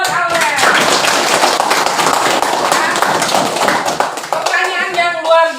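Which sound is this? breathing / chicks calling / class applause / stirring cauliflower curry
class applause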